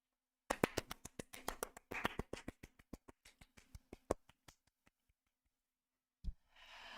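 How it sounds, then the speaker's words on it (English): Clapping sound effect from a Kiryu Coco (Hololive) fan video game in development: a quick run of sharp claps that thins out and slows down before stopping, then a single soft thump near the end. "Our chunguses come to applaud our accomplishments."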